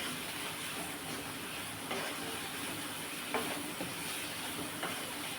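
Onion cooks in a pan with a soft, steady sizzle and hiss throughout, broken by a few faint clicks of stirring.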